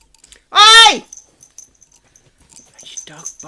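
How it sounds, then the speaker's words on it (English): A dog lets out one loud, close bark out in a garden, then quieter voices and small household noises follow. "That's your dog barking in the garden."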